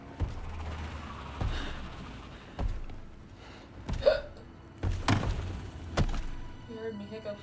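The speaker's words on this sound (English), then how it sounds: "You heard me hiccup." Hiccups in a video game, with a short hiccup repeating roughly every second or so over a low droning background and a few sharper knocks.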